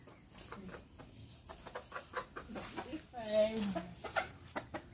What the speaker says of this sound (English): Time to move chickens.